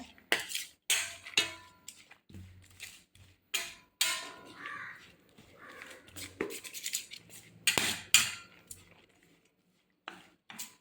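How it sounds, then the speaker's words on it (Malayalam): A spoon stirs and scrapes through sliced broad beans, onion, split green chilli and turmeric powder in a metal bowl, giving repeated sharp clinks and scraping bursts with short pauses between them. "ഞാൻ സ്പൂണ് കൊണ്ടാണ് യോജിപ്പിക്കുന്നത്"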